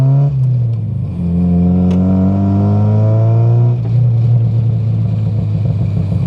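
A 1990 Mazda Miata with its exhaust popping runs loud and close, its engine note holding steady, then climbing in pitch as it revs before settling back to a rough idle.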